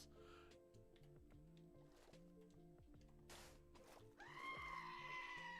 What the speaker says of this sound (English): You mean goats.